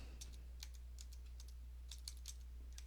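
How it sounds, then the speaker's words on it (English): Soft, distant keystrokes on a computer keyboard type a password in an irregular patter of light clicks over a steady low hum. "So I want to type in a password."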